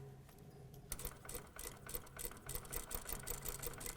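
A sewing machine stitches a seam along zipper tape, running in short, uneven bursts of rapid mechanical clatter after a quiet start.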